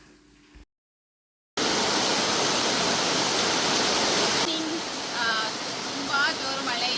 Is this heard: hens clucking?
no